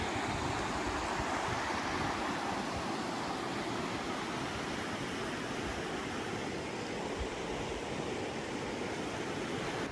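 A river rushes beside a hiking trail in Zion National Park, a steady broadband roar of flowing water, close and continuous with no voices.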